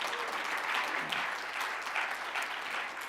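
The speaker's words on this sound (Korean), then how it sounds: "하나님께 우리 감사의 박수 올려주시기를 바랍니다" A church congregation at an evening prayer meeting claps in thanks, a full, even round of applause filling the sanctuary for a few seconds with no voices over it.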